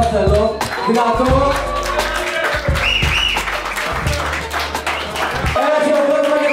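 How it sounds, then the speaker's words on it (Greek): Applause from an audience at a live concert in Greece, a loud, steady crowd clapping over music and shouting voices throughout. "ένα χειροκρότημα για σας θέλω"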